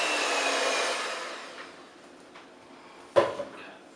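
Electric mixer beating cake batter on high in a home kitchen: a loud steady whirring drone that fades away, followed by a sharp clunk and a few softer knocks.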